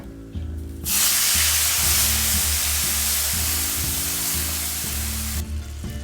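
Tamarind water hits a hot pan and bursts into a loud, broad sizzling hiss that starts abruptly and holds steady for several seconds, close-up, then drops away, with a low background hum and no speech.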